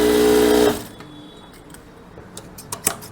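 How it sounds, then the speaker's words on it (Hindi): Sewing machine stitching a V-shaped waistcoat runs loud and close with a steady whirring hum for under a second, then stops, followed by faint clicks and handling taps. "इसको बिठाल के इस तरीके से इस पे सिलाई लगा लेते हैं"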